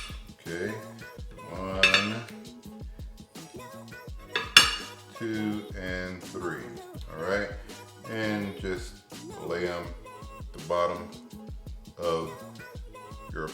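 Bacon slices are cut into thirds with a knife in a home kitchen, with light clinks and knocks of utensils against a board and pan beneath a person talking almost continuously.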